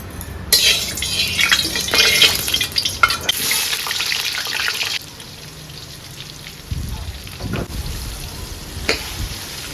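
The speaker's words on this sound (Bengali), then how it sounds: "এখানে আমার আলু ভাজা হচ্ছে" Steady sizzling and crackling of potatoes frying in a pan, with occasional stirring clatter; the hiss eases briefly midway, then continues.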